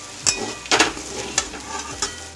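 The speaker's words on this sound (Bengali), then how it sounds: "বরবটি আলু দুটোই একসঙ্গে ভেজে নিই" Yardlong beans and potatoes frying together in plenty of oil, stirred in a few loud, close scraping strokes over a sizzle, with no talk.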